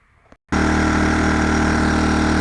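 A generator starts abruptly after a quiet half second and then runs at a loud, steady, close engine drone with no breaks.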